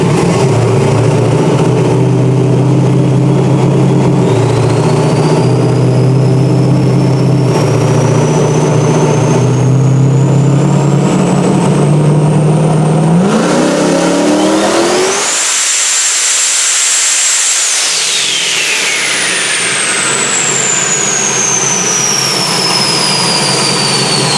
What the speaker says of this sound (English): But now I'm about to get it on the dyno.